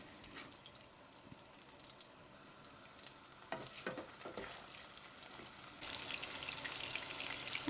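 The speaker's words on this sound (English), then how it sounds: "Add some chopped onions to the butter and fry for 2 minutes." Chopped onions fry in butter in a pan, giving a soft, steady sizzle with light crackles and occasional stirring scrapes, fairly quiet and close, brightening toward the end, with no voices.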